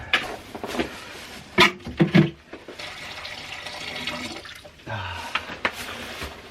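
Warm water pours and splashes in a snow-covered barn, a steady trickling with a few louder sloshes and knocks, quieter in the middle and picking up again toward the end.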